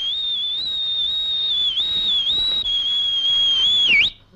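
A single person whistles a steady, sustained high tone with slight pitch wobbles, loud and close, ending with a quick downward slide before cutting off.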